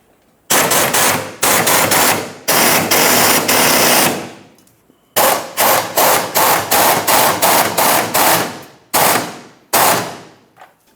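Impact wrench tightening a fuel tank strap nut on a 1994-2002 Dodge Ram 2500, in loud, close, rapid hammering bursts that repeat with short pauses between them.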